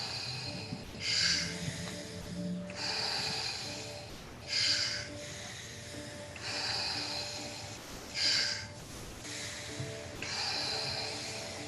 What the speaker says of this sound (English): Breathe in. Breathe out. Breathe in. Breathe out.